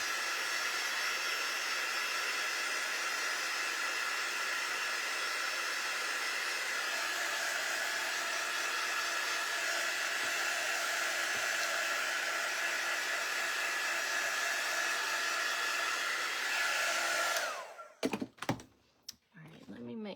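A hair dryer blows steadily on a painted stencil sign, a continuous whooshing hiss at moderate level that shuts off near the end, followed by a few thumps and handling noises.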